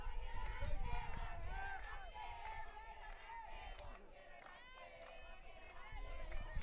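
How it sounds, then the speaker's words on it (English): Softball players in a dugout yell and cheer for a teammate at bat, overlapping excited voices mixed with crowd babble, fairly close and continuous across the span. "Lady Buff dugout making some noise,"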